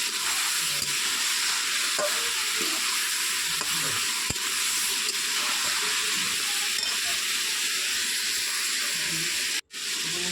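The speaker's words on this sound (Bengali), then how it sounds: "এবার লাল হয়ে গেছে মাংসটা ভেজে ভেজে তেল ছেড়ে দিয়েছে" Poultry meat frying in oil until browned makes a steady, dense sizzle and hiss throughout, close and even, with a few faint clicks and a brief drop-out near the end.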